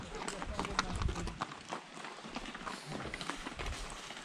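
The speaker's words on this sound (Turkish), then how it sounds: "Atlar yəhərlədik, yola düşdük." Saddled horses walking off with riders on a village track near Zaqatala, hooves clip-clopping in a loose, uneven rhythm at close range, with people talking over them.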